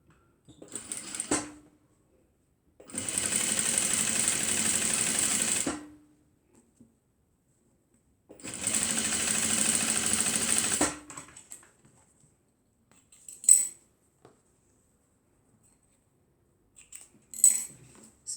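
A sewing machine stitches the corners of a fabric tote bag in two long steady runs of rapid stitching, then a few short bursts, close and clear with silence between passes.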